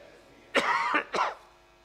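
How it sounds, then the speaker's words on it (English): Two short coughs, the first longer and harsher, the second a quick follow-up, close to the mic over a quiet room. "sorry a bit of a cough"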